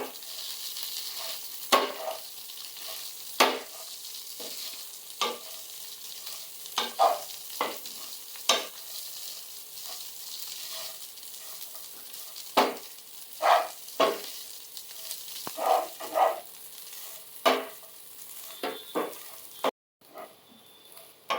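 Food frying in a pan hisses faintly and steadily underneath while a spoon stirs it, giving irregular scrapes and knocks against the pan throughout.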